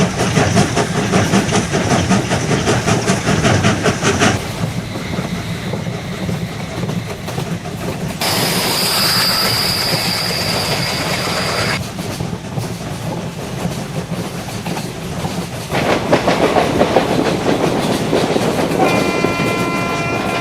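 A Mumbai suburban commuter train rumbles past with steady rolling clatter and shifting wheel noise, a horn-like tone sounding near the end.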